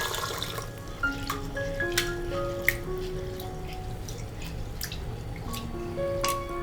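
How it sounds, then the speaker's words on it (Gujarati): Basmati rice being washed in water, with steady trickling, dripping and sloshing throughout and a few sharper splashes, close and moderately loud. "1 કપ બાસમતી ચોખા લઈ લેશું અને તેને 2 થી 3 વખત સરસ રીતે પાણીથી ધોઈ લેશું."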